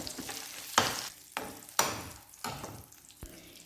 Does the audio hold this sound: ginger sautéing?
yes